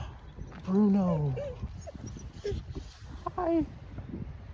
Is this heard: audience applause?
no